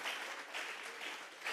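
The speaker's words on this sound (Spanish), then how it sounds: "Vamos a regalarle ofrenda de palmas al Dios de la gloria." Church congregation at a Sunday service clapping together as an offering to God, a steady mid-distance wash of many hands with gentle surges, no voices over it.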